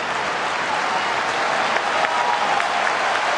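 A baseball stadium crowd at a Baltimore at Detroit game roars and applauds in a steady, loud wash of noise with no break.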